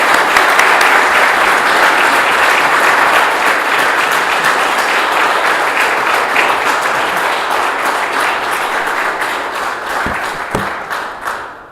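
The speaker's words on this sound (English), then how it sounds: "join me as he walked to the lectern, with greeting him with a hearty round of Buckeye applause." A large audience breaks into a hearty round of applause at a men's gathering as a speaker walks to the lectern, loud and steady clapping that fills the room for about twelve seconds, thinning slightly toward the end.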